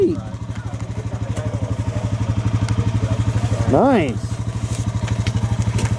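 A Can-Am off-road vehicle rides rough trails at Tug Hill with a steady, pulsing engine drone heard from on board. People talk briefly over the engine.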